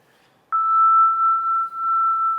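A pure, fairly high sine-like tone, a sonification of Venus's orbit, starts suddenly and sustains evenly, with a brief dip in loudness and slight pitch bend near the end, alone in silence.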